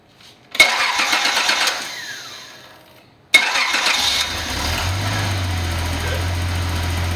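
A car engine cranks with a loud burst, winds down, then cranks again and catches, settling into a steady low idle that runs on alone. The setting is an old car in a garage with spare parts.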